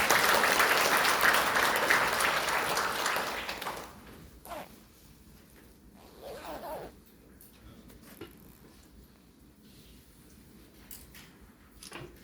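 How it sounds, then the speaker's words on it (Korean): At a public history lecture, an audience gives a speaker a welcoming round of applause with loud, dense clapping. After about four seconds it dies away, leaving only faint room noise and scattered small sounds. "큰 박수로 맞아주시기 바랍니다."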